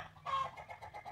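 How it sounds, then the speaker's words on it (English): A rooster on a backyard garden plot squawks and clucks in an agitated fit, one louder strained call followed by a run of short rhythmic clucks, moderately close with no talk over it. "rooster decided to throw a fit right now"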